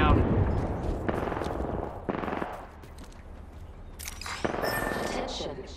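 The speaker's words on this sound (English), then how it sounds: "Being shot at." Bursts of gunfire from the video game Apex Legends crackle close and loud, with a heavy opening volley, later sharper sporadic shots and brief rattling bursts.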